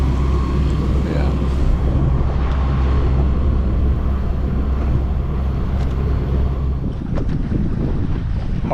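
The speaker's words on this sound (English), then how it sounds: "We got wind coming from our port quarter here" Strong wind rushing over a sailboat at sea, coming from the port quarter, with a constant roaring buffet on the microphone and water washing beneath it throughout.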